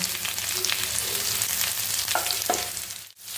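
Garlic cloves and chopped green chillies sautéing in a pan for a tomato bharit, giving a close, steady sizzle with a few soft stirring scrapes and no voices.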